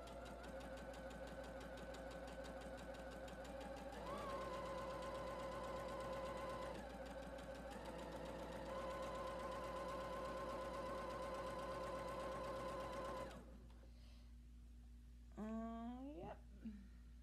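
A sewing machine stitching a seam in fabric panels hums steadily for about thirteen seconds, then stops, leaving a quieter room with a brief voice afterward.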